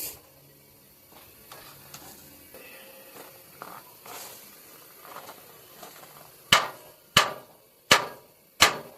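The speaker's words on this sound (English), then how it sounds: "Let me get my hammer and see if it'll come off" Four sharp, loud metallic hammer blows strike a vehicle chassis part near a rivet at the end in a steady rhythm, following several seconds of quieter clinks and shuffling.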